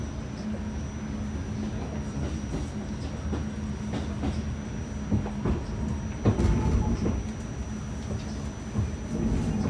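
An R46 A train on the New York subway rumbles along the tracks toward Far Rockaway with rhythmic clicks and clanks, a steady loud roar that swells briefly, plus a faint high whine.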